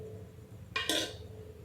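A metal spoon clinks and scrapes against a pan while fried rice is tossed with fried spices and ghee, one brief bright clatter over a faint background hum.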